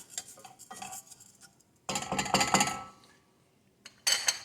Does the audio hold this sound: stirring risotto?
yes